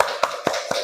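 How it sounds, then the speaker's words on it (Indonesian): Three sparse, distinct hand claps in a classroom after a student group's presentation, close and fairly quiet, evenly spaced with no talk over them. "Beri tepuk tangan untuk kelompok"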